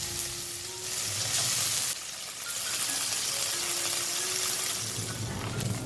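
Tofu slices frying in hot oil for a Chinese-style tofu omelette, a steady close sizzle and crackle with occasional small splatters and stirring clinks, no voices.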